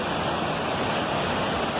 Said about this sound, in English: I'm here again to show you other waterfall, beautiful, amazing, fantastic waterfall.